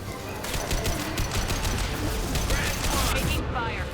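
Gunfire in Mass Effect 2 amid a firefight, with quick bursts of shots over a dense, loud battle din, steady throughout, voices speaking under the action.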